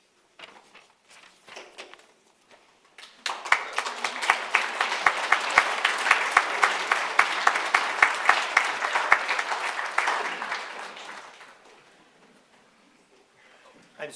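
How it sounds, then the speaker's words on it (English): An audience claps together at a memorial service for William Anderson, applause swelling quickly from a few scattered claps into steady full clapping for several seconds, then fading away, with faint murmuring beneath. "I'm so glad you started clapping."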